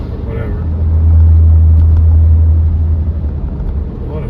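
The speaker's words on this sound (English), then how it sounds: "A lot of traffic coming here too." Road traffic passes on a busy road, with a loud, close, low rumble that swells and fades over a few seconds as a vehicle goes by.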